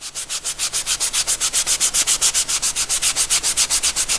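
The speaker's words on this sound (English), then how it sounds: "taking your Scotch-Brite and just really going over" Scotch-Brite pad rubbed briskly back and forth along the edges of a cutout for a training kusari-gama, a steady rapid rhythm of close, loud scratchy strokes with no talking.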